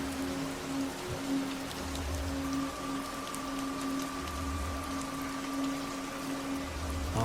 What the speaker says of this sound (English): Oh, the sound of rain.